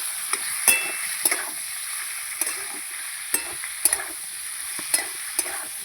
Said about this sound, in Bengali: মাছের তেল আর আলু একটু ভেজে নেবো